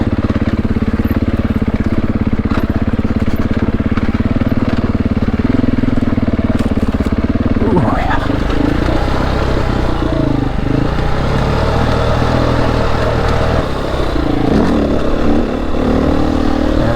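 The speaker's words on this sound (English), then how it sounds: "Having so much fun on this Beta 480 lightweight bike out on these trails" A Beta 480 lightweight dirt bike ridden on steep, slippery high-country trails, its engine droning loudly and continuously close by, with rev changes and a brief surge midway.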